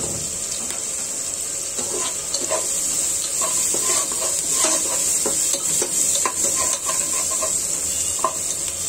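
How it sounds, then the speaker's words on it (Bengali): Turmeric and spices fry in a pan for a Bangladeshi mixed vegetable dish, a steady close sizzle with scattered stirring scrapes and clicks running throughout, no talking. "মশলাটা ভেজে নিব একটু।"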